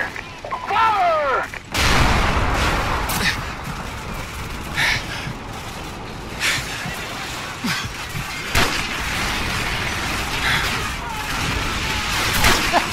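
Call of Duty 4: Modern Warfare battle: a tank cannon booms amid rattling gunfire bursts and scattered explosions, with dense, continuous combat noise throughout.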